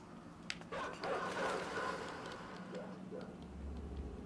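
Dogs bark in the video game Inside, with a few short, muffled barks and yips at a moderate distance amid soft game ambience.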